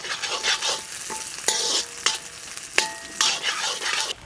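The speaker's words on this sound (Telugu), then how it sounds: "ముందుగా అల్లం వెల్లుల్లి వేసుకొని 1 నిమిషం పాటు వేయించుకుందాం" Ginger, garlic, onions and green chillies fry on a high flame for street-style gobi fried rice, producing a loud continuous sizzle with repeated scraping strokes and metallic clinks of stirring.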